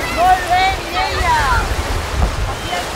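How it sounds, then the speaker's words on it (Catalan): A strong southwest Garbí wind at sea off Badalona roars across a sailboat, flapping the jib and mainsail with a loud, gusty rush over wave noise. "avui al mar ha entrat el Garbí, que està flamejant molt les veles, el floc i la vela major, i és un vent bastant fort"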